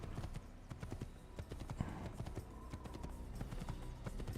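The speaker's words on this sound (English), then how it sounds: "And then there was a horse." A horse's hooves clip-clop in a steady walking rhythm in the Assassin's Creed video game, close and clear over a low rumbling background, with no talking.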